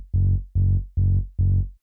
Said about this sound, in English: The sub bass is sounding like this.